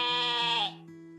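A voice imitates a sheep's bleat, a single wavering, nasal baa held for most of a second before fading, close and clear with no other talk.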